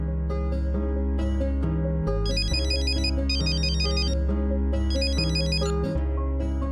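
A phone ringtone plays a bright electronic melody with repeating phrases and high chiming notes, loud and close with no one talking over it, in a Telugu TV serial scene.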